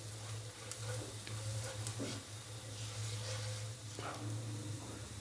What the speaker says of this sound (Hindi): और हल्का सा इसको फ्राई कर लेंगे 1 से 2 मिनट के लिए